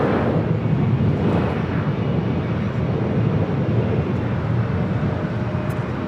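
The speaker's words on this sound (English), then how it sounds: "this Dreamliner coming in from Philadelphia will now be crossing" A Boeing 787 Dreamliner arriving from Philadelphia taxis across a runway at Los Angeles airport, a steady, moderately loud engine rumble and hiss holding evenly throughout with no talking.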